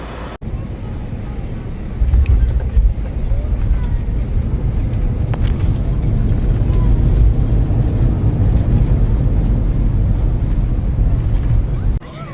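An Allegiant airliner lands at Orlando Sanford airport, heard from inside the cabin as a loud, steady low rumble and roar that swells after a thump near the start and carries on evenly.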